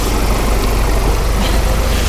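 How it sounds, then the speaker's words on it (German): A motor idles steadily, a constant low rumble with broadband hiss filling the whole short stretch, close and loud, with no voices. "Marcel lässt schon den Motor laufen."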